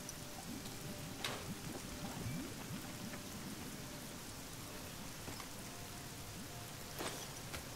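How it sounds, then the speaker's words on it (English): Steady rain falls in the Fallout New Vegas video game with the Nevada Skies weather mod, a constant dense hiss of drops with a few sharper splashes and faint low rumbles, and no voices. "It's still fucking raining."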